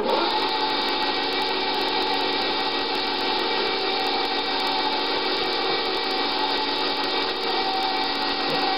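A KitchenAid stand mixer with its sausage stuffer attachment pushes out ground meat into one long link, a constant close motor whir with a grinding, rubbing edge and no talking.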